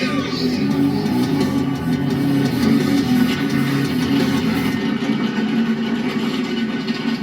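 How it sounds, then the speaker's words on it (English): Several NASCAR Cup Series race car engines rumble steadily at idle after starting, a loud, continuous low drone filling the whole stretch with no clear revs or breaks. "Drivers, start your engines!"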